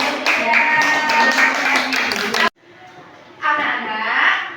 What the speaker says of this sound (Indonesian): Tepuk tangan buat kamu ya